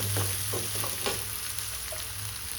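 Crushed chillies and garlic with salt fry in a pan, giving a dense close sizzle with a few quick stirring scrapes near the start.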